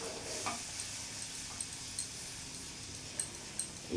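Semolina halwa stirred in a pan over a medium gas flame, a soft scraping and faint sizzle with a few light ticks of the spoon against the pan, quiet and close.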